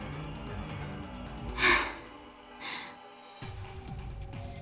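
A female character in Steins;Gate Elite breathes heavily, with two sharp, strained gasps a second apart over quiet background music.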